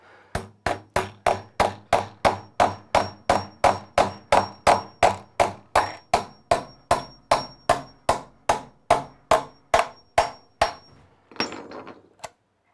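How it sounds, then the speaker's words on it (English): A hammer drives a wooden header into a rotted sill plate opening over a basement bulkhead: about two dozen sharp, evenly spaced blows, close and loud, ending with a few scraping sounds. "I think once I hammer this in there,"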